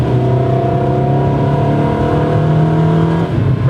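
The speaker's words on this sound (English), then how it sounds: "Revving out a Ferrari is unlike anything else." A Ferrari 360 with a Tubi exhaust revs hard, its engine note holding a loud, steady, rising harmonic wail close up before dropping off near the end, with no voices.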